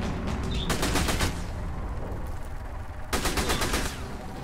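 Enemy fire in Sniper Elite V2 arrives as two rapid bursts of loud automatic gunfire with a quieter gap between them, set against a steady rumbling battlefield background.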